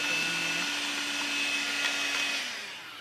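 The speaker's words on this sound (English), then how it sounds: "Use my hand vac again here." A handheld vacuum cleans parts of an iRobot Roomba 650, giving a steady, close whining drone with a tonal hum that drops away in the last moment.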